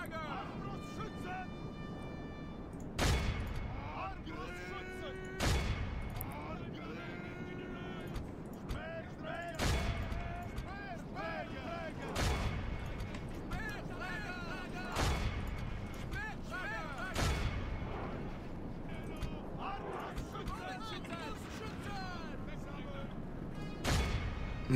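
Repeated sharp gunfire reports ring out from a siege-era battle in Medieval II: Total War, spaced bursts every few seconds over a dense bed of battle noise, music and distant clamour.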